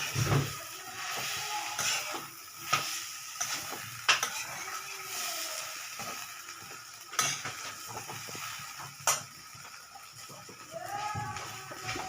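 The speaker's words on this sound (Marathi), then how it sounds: "पहा मैत्रिणीनं आता हे आपल्याला छान असं मिक्स करायचं आहे" Crumbled leftover chapati being stirred through a spice tempering in a pan, a steady scraping stir with light sizzling and occasional sharp utensil knocks against the metal, close and with no talk over it.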